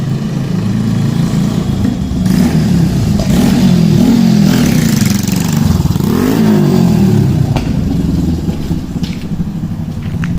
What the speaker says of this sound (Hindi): तो जैसे कि आप देख सकते हैं बाइक आ रही है और उसकी ऐसी आवाज़ हो गई है।